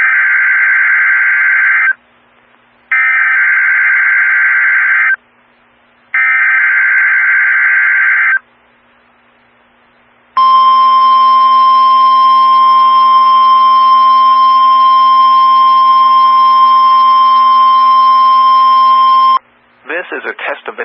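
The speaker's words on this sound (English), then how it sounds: "This is a test of the Noaa weather radio warning alarm device and the emergency alert system." A NOAA weather radio warning alarm test plays loudly: three long tone bursts separated by short gaps, then a sustained steady alert tone lasting about nine seconds, followed by a brief burst of data-like noise.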